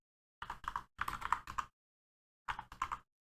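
Quick bursts of key clicks on a computer keyboard, close and crisp, in three short runs separated by brief pauses, heard alone in an otherwise silent room.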